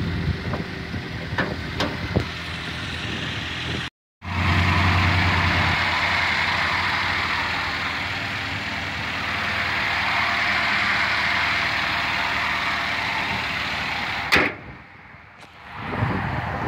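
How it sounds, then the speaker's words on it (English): A 2007 Toyota Yaris with about 131,000 miles idles steadily at close range, a smooth continuous engine hum broken by a brief cut near the start and a short clunk or door sound late on. "It's a smooth little engine right there."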